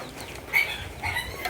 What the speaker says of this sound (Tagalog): Ayan, ang kanyang mga manok.